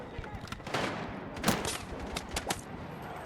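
Battlefield 6 video game combat: near, continuous bursts of automatic gunfire with sharp shots and muffled blasts in a busy firefight.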